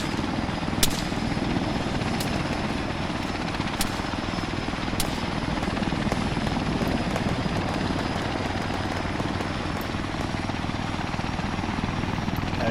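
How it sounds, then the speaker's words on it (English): A helicopter with a destroyed rotor blade coming in to land in Arma 3, a loud continuous rotor and turbine roar with a few sharp impact clicks early on, steady for the whole stretch with no talk. "a helicopter's trying to land, but it's got a destroyed rotor blade"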